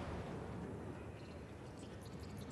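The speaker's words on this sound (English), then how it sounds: "The explosions are cool." Explosions in the video game The Ascent roar as a continuous heavy rumble that fills the whole clip, loud and dense with no clear gaps or voices.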